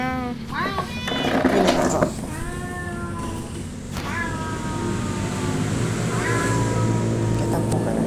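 A pet cat meows repeatedly up close, loud drawn-out calls in several bursts, while a person imitates the meowing alongside it.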